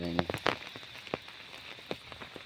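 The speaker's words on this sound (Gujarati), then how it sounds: "જબરદસ્ત વરસાદ શરૂ." Heavy rain pouring down outdoors, a dense wash of patter broken by sharp, irregular splats of drops striking a surface nearby, with a brief voice at the start.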